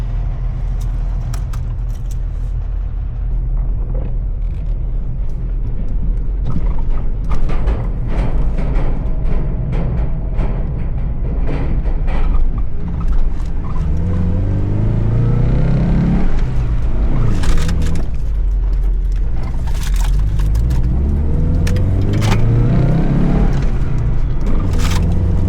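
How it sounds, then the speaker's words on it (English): Ferry motors running during a crossing on a Pacific Northwest ferry, a continuous low rumble with rising and falling engine tones, punctuated by scattered clanks and rattles, steady throughout with no talking. "You can hear a lot more of the motors, you can feel what they're doing."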